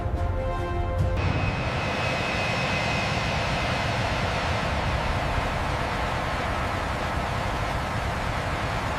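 Jet engines of a B-2 Spirit bomber roar steadily through its landing, a loud, continuous broadband rumble with a faint high whine, preceded by a brief harmonic tone at the start.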